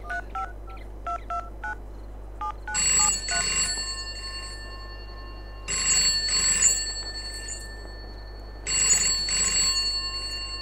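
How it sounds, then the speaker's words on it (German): Telephone ringing in an office in Farming Simulator 22: three separate bursts of a bright electronic ring, each about a second long with short repeated pulses, evenly spaced between pauses and sounding close and clear. "Ich glaube, da geht ein Telefon im Büro vorne."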